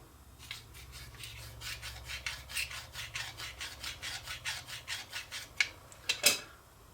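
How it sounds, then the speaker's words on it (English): A dull router bit is rubbed flat-side along a sharpening stone, a rhythmic series of close, raspy scraping strokes of about two per second, with a few sharper scrapes at the end. "Just make passes along the stone on the flat side, and it will tune up and give new life to your dull router bit."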